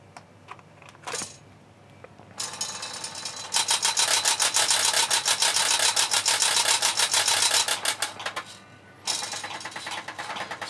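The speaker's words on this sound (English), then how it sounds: "So when it first turns on, it does a homing routine." Stepper motors in a Clay Paky Golden Scan HMI 1200 stage scanner whir and chatter through their power-on homing routine, a loud buzzing stretch broken by brief pauses, with clicks before and after.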